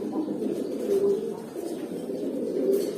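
Domestic pigeons, among them silver, hammer and bezi breeds, coo in low, steady, overlapping murmurs close by throughout, with no other sound standing out.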